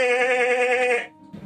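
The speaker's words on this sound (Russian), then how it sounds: "Проблеял баран" A ram gives one long, loud, wavering bleat lasting about a second, then falls quiet before a faint rustle.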